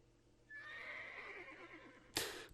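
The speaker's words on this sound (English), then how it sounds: "Well, he's a demon horse, so I'm sure he can take it." A demon horse in the World of Warcraft video game lets out a loud, clear whinny lasting about a second and a half, followed by a sharp burst of noise near the end.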